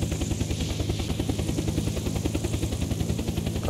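A helicopter flying in the video game Unturned, its rotor giving a steady, fast rhythmic thumping with engine whine, constant and close throughout.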